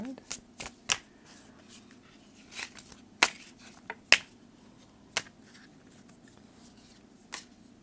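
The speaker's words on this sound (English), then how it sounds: "I'm shuffling like crazy in between each reading" Tarot and rune cards are shuffled in sharp, scattered riffles and taps, close and fairly quiet against a hushed room, with no talking.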